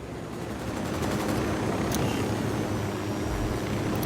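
A chopper in the Ghost Recon Wildlands video game drones steadily under bursts of gunfire and a brief sharp crack, the rotor noise rising slightly partway through.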